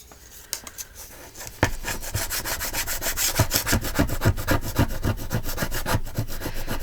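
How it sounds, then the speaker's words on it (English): Scraping glue off a craft cutting mat with a flat tool, a close rhythmic rasping of quick back-and-forth strokes that goes on steadily after a few scattered scrapes at the start. "This helps scrape up the glue."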